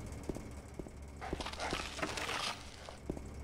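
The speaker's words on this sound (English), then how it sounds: "I got the barking" A dog barks in the horror game Silent Hill 2, a rough, noisy burst lasting about a second over a bed of soft, regular footsteps.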